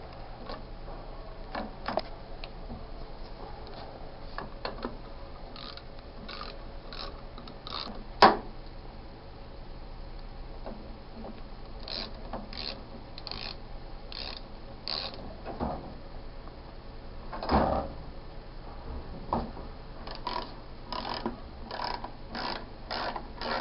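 Studs and an outlet fitting being removed from a Chevy power steering pump clamped in a vise: scattered sharp metallic ticks and ratchet clicks, with a louder clank partway through, amid quiet workshop background.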